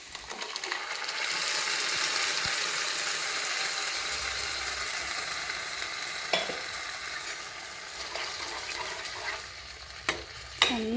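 Ground paste of tomato, ginger, garlic and green chili is added to a hot pan for paneer biryani and stirred, giving a steady sizzle and frying hiss with occasional spoon scrapes and clicks against the pan.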